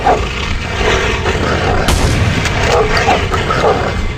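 Gunfire in the horror action game The Suffering, loud sharp reports and booming blasts layered over a dense, noisy combat backdrop, with one strong crack near the middle of the burst.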